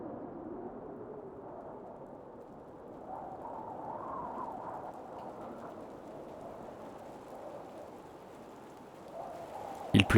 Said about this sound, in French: Il pleut toute la journée.